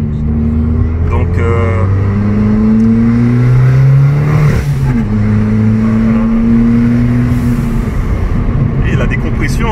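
Abarth 695 Stage 3 hatchback engine revving loudly and steadily close by, its pitch climbing and falling through several throttle sweeps, with a voice speaking over it.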